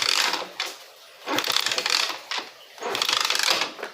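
The kick starter pedal of a 50cc motorcycle pressed repeatedly, giving three close bursts of ratcheting, clattering mechanism noise with short pauses between them.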